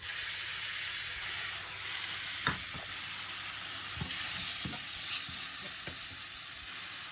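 Bell pepper sizzles in a hot pan with a steady bright hiss, punctuated by a few soft scrapes and taps from stirring, heard close and without talk.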